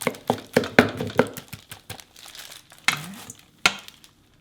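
Chive kimchi being mixed by a gloved hand in a bowl, a close series of crinkly, squelchy rustles and soft slaps in irregular bursts, quieter pauses between, no talking.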